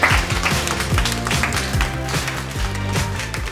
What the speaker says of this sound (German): Einmal einen Applaus für die gelbe Gruppe hier.